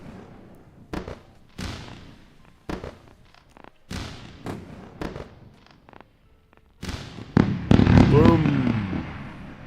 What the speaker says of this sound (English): Let me share with you the fireworks.